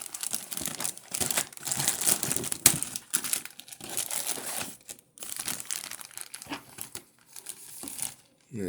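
Christmas wrapping paper crinkled and rustled inside a box holding Marx toy figures, close and loud, with irregular bursts of crackling and brief tearing-like rips and short pauses between handlings.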